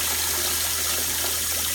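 Hot tap water runs steadily from a kitchen faucet into a sink, a constant close hiss and trickle with no break, alone without voices.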